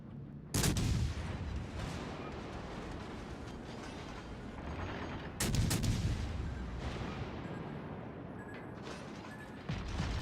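Heavy secondary weapons firing in a military video game, with two loud booming bursts a few seconds apart that roll into a sustained mechanical rumble and clatter, with no voices.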